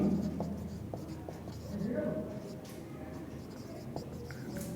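Handwriting on a board or paper during a history lesson, soft scratchy strokes throughout, close, with background noise and a voice present around them.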